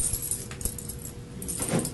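A bunch of keys jangles in short, light metallic rattles close by, with a brief lull in the middle, in an interview room.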